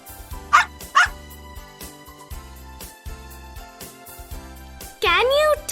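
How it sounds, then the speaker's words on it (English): A dog barks twice in quick sharp yaps, then a longer whining bark, over a steady musical backing. "Dog."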